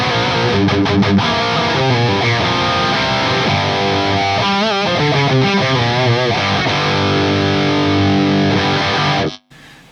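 Electric guitar run through the Workhorse drive block of a Fractal AX8, set as a Klon-style overdrive with silicon clipping, level up and a touch of mids, playing chords and bent lead notes, loud and continuous, alone until an abrupt stop.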